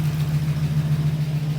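A warmed-up UMZ 4216 engine with a replaced oil pump and fresh oil idles with knocking hydraulic lifters, a steady close low hum with a faint rapid pulsing tick.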